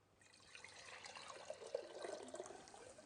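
Ordinary water pours into the inner pot of a hide glue pot, a soft splashing trickle that swells and gurgles over a few seconds, close by and with no talking.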